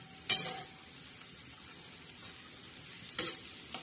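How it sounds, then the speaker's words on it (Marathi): A dry sprouted bean usal with onion, tomato and chilli simmers in a pan with a little water, giving a soft steady sizzle broken by two sharp clatters of a spoon against the pan. "आता शिजत आहे आपली उसळ छान अशी."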